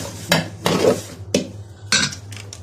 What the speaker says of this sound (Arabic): الحله تتغسل كده